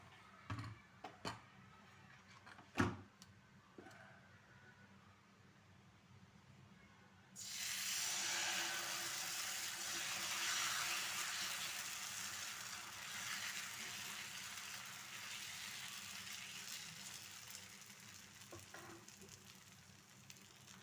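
Wheat flour dosa batter meets hot oil on a pan and breaks into a loud, steady sizzle after a few quiet clicks and knocks, the hiss holding strong and gradually easing.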